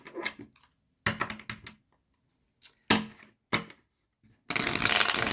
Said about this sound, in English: Shuffle a whole bunch so I can make sure it's nice and random for you.